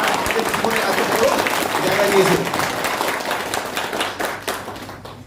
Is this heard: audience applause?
yes